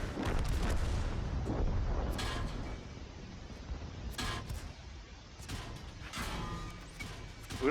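Tank cannon fire in World of Tanks during a tier 6 Strongholds battle, with several booming shots and crashes spread across the clip over a rumbling background, no voices.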